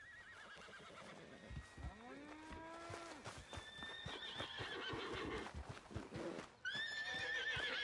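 A horse whinnies loudly with a long quavering call, alongside clip-clopping hooves and other farm-animal noises, ending with another neigh.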